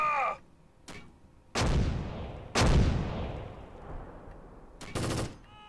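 Artillery fire in the war video game Close Combat, a string of loud, sharp blasts with long rumbling decays, spaced apart, and a brief burst of crackling gunfire near the end.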